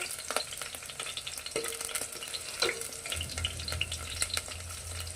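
Vegetables for sambar fry in a pan with a dense, steady sizzle and crackle, close by, with occasional stirring clinks and a low rumble joining partway through.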